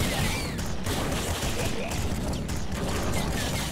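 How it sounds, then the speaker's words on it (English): Crystal machine gun firing in the game Nuclear Throne, a dense, continuous rattle of rapid shots with glassy, crackling impacts, loud and unbroken. "It's a crystal pistol. Crystal machine gun analog thing."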